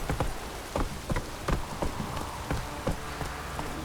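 Steady rain falls in The Witcher 3: Wild Hunt, a constant patter with scattered louder drops and soft thuds recurring every half second or so, like hooves or footsteps on a wet surface, with no voices.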